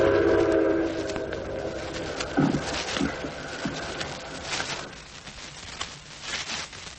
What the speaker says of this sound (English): in a moment, in the distance, you'll hear the long, lonely whistle of the train